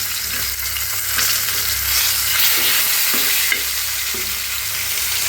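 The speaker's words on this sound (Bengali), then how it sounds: "এখন এই তেলে আমি শুকনো মরিচ ভেজে নিব।" Dried red chillies fry in hot oil in a pan just used for frying fish. Loud, steady sizzling carries on throughout, with occasional stirring scrapes and no talking.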